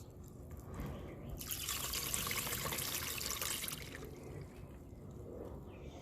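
Running water rinses out a rock tumbler barrel used for tumbling quartz, a soft splashing gush that swells for a couple of seconds before fading into a faint trickle, quiet and close.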